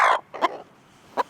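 Flock of chickens giving short, loud, abrupt clucks close by, three quick calls spaced unevenly across a moment.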